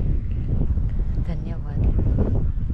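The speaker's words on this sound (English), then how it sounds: "I'm not sure if you can hear me, but it is very windy." Strong wind buffets the microphone throughout, a steady low rumbling roar on an outdoor day of drone flying.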